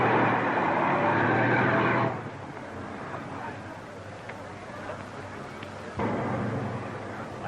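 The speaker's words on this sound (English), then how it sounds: "The Inspector General's car is coming" The Inspector General's car approaches in a 1936 comedy film: a loud motor hum that cuts down to a softer rumble, then swells again, with faint background noise throughout.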